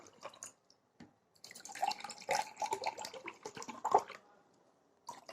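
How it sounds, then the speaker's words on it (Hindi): Plain water is poured into two glasses, giving close, intermittent splashing and trickling bursts with short pauses between pours. "ये दोनों ग्लासों में सिंपल पानी डाल रही हूँ मैं"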